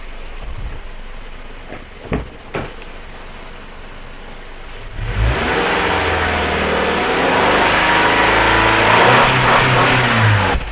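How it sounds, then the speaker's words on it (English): A car engine is revved hard up to its rev limiter during a MAF sensor test, loud and close: a few short clicks and a quiet idle, then a sustained high-revving roar that holds steady to the end. "activated the rev limiter there"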